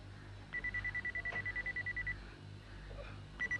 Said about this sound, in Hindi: मिस्टर रोबो, ये बीप बीप क्या है?